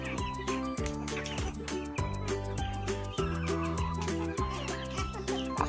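Free-range chickens on a farm, hybrid breeds among them, cluck and call busily in a steady chorus, with some sharper calls cutting through and repeated low thumps underneath.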